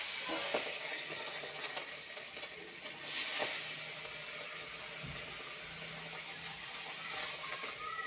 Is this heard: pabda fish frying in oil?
yes